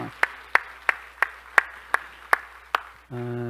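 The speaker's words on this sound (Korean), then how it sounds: "박수로 한번 격려합시다" Slow, sparse clapping in a church sanctuary for the women's group, about nine evenly spaced sharp claps, loud and close, ending as a sustained electronic organ-like tone sets in.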